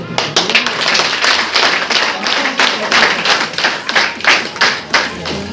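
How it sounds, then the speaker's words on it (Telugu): Audience members at a live product demonstration clap in a quick, evenly spaced rhythm of sharp hand strikes, close and loud, with some voices mixed in. "క్లాప్స్ మీకు"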